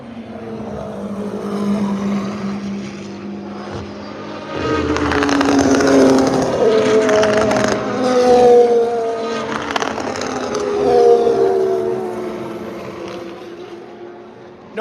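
Race cars at Le Mans scream past trackside at night, engines rising and falling in pitch through gear changes as several cars pass in succession, loud and close.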